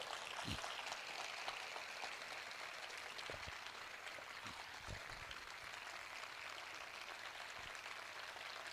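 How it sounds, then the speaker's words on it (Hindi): A church congregation claps for the Lord in a soft, steady patter of many hands, distant and faint, with a few louder thumps breaking through. "आइए हम सब मिलकर अपने प्रभु के लिए एक अच्छी ताली बजाएंगे"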